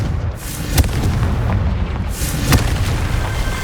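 Blasting-curse explosions in the Hogwarts Legacy video game: a loud rumbling roar with two sharp cracking booms about two seconds apart, each bursting over a continuous low-end rumble.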